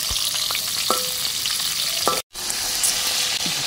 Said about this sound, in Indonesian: Nah, goreng ikan asin ya.